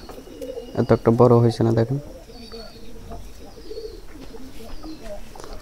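Pigeons coo softly in a farmyard kept alongside cows, the low calls sitting mostly beneath a short burst of nearby talk and then continuing faintly in the quieter stretch after it.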